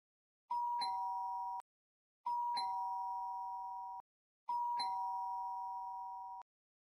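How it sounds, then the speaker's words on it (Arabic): A doorbell in the Roblox video game rings three times, each a clear two-tone electronic ding-dong chime at an even interval, alone in silence. "انا رنيت الجرس كتير بس محدش فتح"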